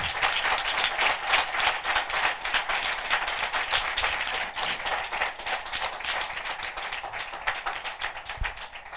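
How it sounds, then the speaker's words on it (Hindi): Sustained applause from a crowd at a religious gathering welcoming a speaker, many hands clapping quickly and continuously at an even level throughout, with no talking. "हम जोरदार ताली से उनका स्वागत करें"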